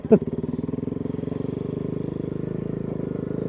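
A 2002 Honda CRF450R motocross bike fitted with a snow kit rides over hard-packed snow, its single-cylinder engine thumping in a steady fast pulse, loud and close throughout.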